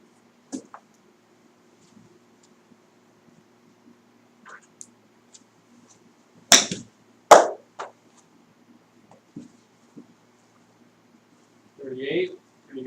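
Golf club striking balls during a practice lesson aimed at 35-yard shots: two sharp, close impacts in quick succession midway, with sparse faint ticks and quiet background sounds around them.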